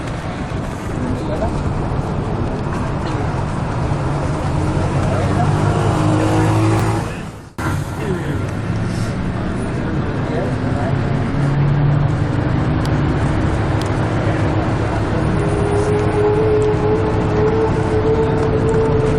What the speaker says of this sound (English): And we're off on the bus to Cachi.